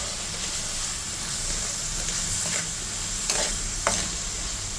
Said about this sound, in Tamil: நல்லா ஒரு ஆயில் ஃப்ரை பண்ணிக்கோங்க